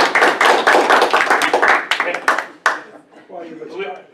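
At a regular public meeting, a small group claps to welcome a new member, a few seconds of brisk, scattered handclaps that fade out into talking voices.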